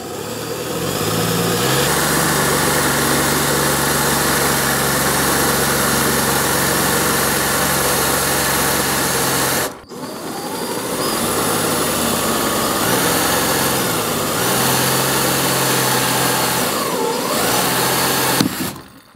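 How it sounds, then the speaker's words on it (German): A power drill bores through a kayak hull, whining steadily at close range, stopping abruptly once partway, then running again for a second stretch before cutting off, with no talking. "Jetzt wird ein bisschen laut. Es ist nicht so schlimm, wie man denkt. Einmal den Bohrer raufsetzen."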